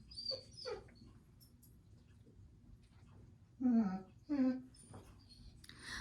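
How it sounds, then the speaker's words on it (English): A dog whines softly a few times in a quiet room, thin high whimpers followed by two louder, longer whining cries. "That is my dog whining."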